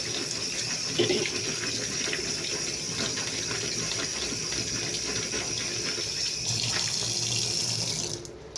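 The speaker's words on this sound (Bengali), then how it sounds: "আলু ধুয়ে নিচ্ছি" Tap water runs steadily into a kitchen sink as potatoes are rinsed under it, a continuous close splashing gush that holds even for about eight seconds before cutting off.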